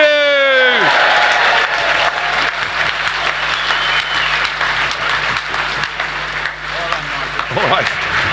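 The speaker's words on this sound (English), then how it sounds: "Give yourselves a round of applause." Sustained applause from a rally crowd at a Brexit Party event in Wolverhampton, steady clapping filling the hall throughout after a speaker's voice fades at the start, with a few faint voices over it near the end.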